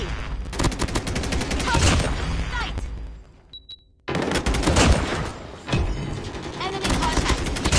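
Sustained automatic fire from the legendary M4 assault rifle in the Call of Duty Mobile shooter game, loud dense rapid bursts with a brief lull before the firing resumes.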